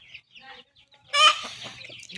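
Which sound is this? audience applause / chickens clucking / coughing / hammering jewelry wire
chickens clucking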